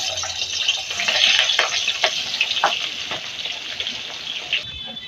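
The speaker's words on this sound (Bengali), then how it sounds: "আর মাছটা মাখা হয়ে গেছে, তেলে ছেড়ে।" Fish coated in salt, turmeric and chili sizzles in hot oil in a home kitchen, a steady crackling hiss with scattered pops and occasional stirring clinks, close and clear with no talking.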